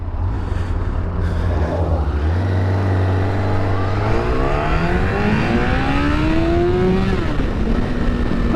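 A Yamaha YZF1000R motorcycle accelerates hard along an A road, its engine note climbing through rising revs in a sustained, close, loud roar with wind noise underneath.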